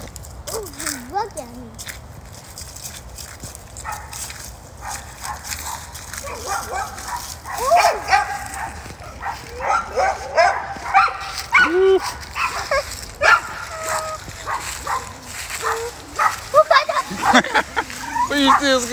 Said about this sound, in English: City dogs.